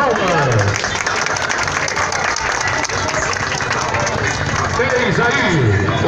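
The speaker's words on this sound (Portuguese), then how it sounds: "As suas palmas." Loud crowd applause at a horse show award ceremony for a champion horse in Mundo Novo, Bahia, Brazil, a dense, sustained roar of clapping with an announcer's voice and other voices carrying over it.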